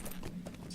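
Hoofsteps of a dwarf riding goat mount in the online game The Lord of the Rings Online, trotting indoors through Thorin's Hall toward the throne: a steady, close clip-clop rhythm over a low ambient hum.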